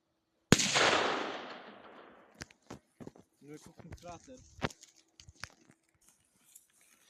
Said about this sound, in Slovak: Takže máme tu poslednú jednu petardu dnešného dňa. JC-05. Idem si ju odpáliť do tej diery.